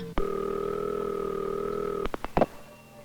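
A vintage 1969 telephone line's steady dial tone hums for about two seconds, then cuts off into a few quick clicks of dialing, close and clear with no voices.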